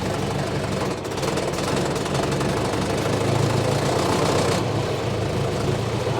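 The engine of a 1979 John Deere 310A backhoe loader (62 HP) is shifted into 7th gear, high range. It gives a loud, continuous diesel rumble up close, with slight dips in tone as the gear changes.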